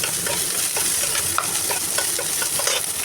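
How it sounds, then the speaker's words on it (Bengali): Onions and green chillies fry in mustard oil in a pan, giving a steady close sizzle with occasional stirring scrapes and no talk. "তো এই তো মরিচ দিয়ে দিলাম তো এই তো পেঁয়াজ তো ভাজা হয়ে গেল"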